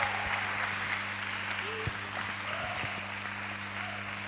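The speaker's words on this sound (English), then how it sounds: "A round of applause for her." A round of applause from an audience at a youth development livestream event, steady moderate clapping continuing throughout, with some faint voices mixed in.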